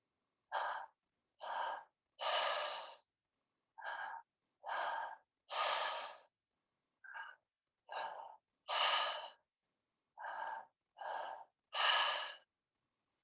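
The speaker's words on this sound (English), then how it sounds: "2 inhales into the belly and the chest through the mouth, and then an exhale through the mouth" Repeated two-part pranayama mouth-breathing: two quick audible inhales into the belly and chest followed by a longer, louder exhale, cycled four times with short pauses, close and clear with no talking.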